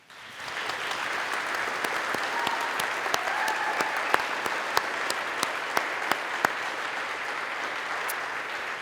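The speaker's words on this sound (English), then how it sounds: "Let's give them a round of applause." A large audience at a college commencement ceremony for the class of 2021 applauds steadily and fairly loudly, a dense continuous wash of clapping with a few sharp, closer claps standing out.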